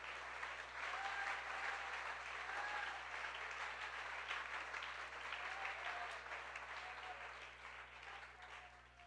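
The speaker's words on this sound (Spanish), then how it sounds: "Un aplauso para el Señor Jesús" A church congregation applauds for the Lord Jesus during a sermon, a steady wash of many hands clapping at moderate distance that holds throughout and tapers slightly toward the end.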